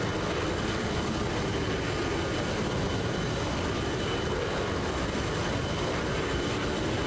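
An A-10C Thunderbolt jet flies in the Arma Reforger video game, its engine a steady, dense roar that holds unchanged throughout with no voices.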